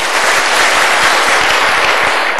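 Steady, dense applause from a large audience at a Sinau Bareng talk with Cak Nun and Kiai Kanjeng at a university, sustained and loud throughout with no speech.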